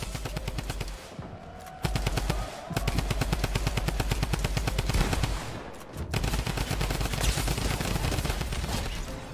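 Drum gun firing in Fortnite, long rapid-fire bursts with a fast, even rhythm, loud and close, broken by two short pauses.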